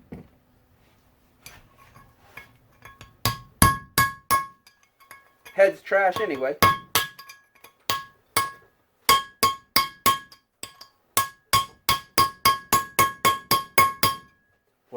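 Repeated sharp metallic hammer strikes on a stuck titanium valve in a Yamaha YZ250F engine ring out close by, starting sparse then settling into a steady rapid rhythm, with a brief burst of speech midway.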